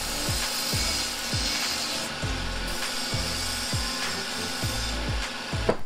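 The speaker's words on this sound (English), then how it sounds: "I need to go out to the belt sander, need to take off the burrs, sand it up a little bit" A belt sander deburring and smoothing a mitered steel-tube end for a bicycle quill stem gives a steady gritty grinding hiss, broken by regular low thumps roughly every half second as the tube is pressed and lifted, close and fairly loud.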